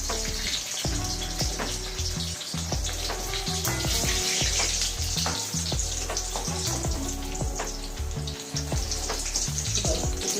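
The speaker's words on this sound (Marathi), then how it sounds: "एकदम बारीक गॅसवर तळायची" Green chillies deep-frying in oil over a low flame for bhaji, a steady dense sizzle and bubbling that continues loud and close without talk.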